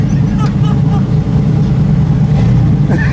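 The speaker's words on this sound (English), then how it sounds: "Yes, the Suburban's breaking loose at only 5 pounds of boost." A turbocharged Chevrolet Suburban running 5 pounds of boost roars and revs loudly as its tyres break loose, with voices talking over the engine.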